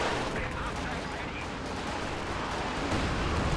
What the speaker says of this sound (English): A quick rocket barrage there from its 10 tubes.